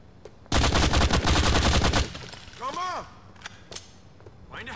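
Rapid burst of video-game gunfire from a gun in GTA IV: The Ballad of Gay Tony, loud and dense automatic shots for about a second and a half, followed by quieter scattered sounds.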